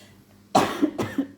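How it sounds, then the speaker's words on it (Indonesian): A single sharp cough followed by a second, shorter cough, close and fairly loud, with no talking. "Maaf ya kakak batuk."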